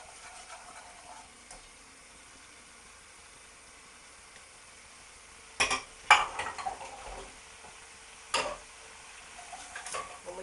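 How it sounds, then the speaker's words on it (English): Flour and mustard being stirred and cooked in a pan for a macaroni cheese sauce, a faint low sizzle punctuated by several sharp scrapes and clinks of utensil against pan, close by. "we're going to cook the flour now for about a minute"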